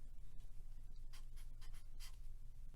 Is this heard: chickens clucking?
no